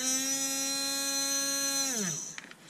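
Repaired Bosch Ixo cordless screwdriver running in one direction: a steady, high, buzzing motor whine held for about two seconds, then winding down in pitch as it stops, with faint clicks afterward.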